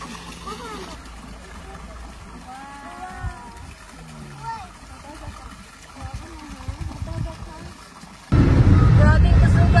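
Water flows at a moringa farm in Japan. People chat over a faint background, then a loud, steady rush of water starts near the end.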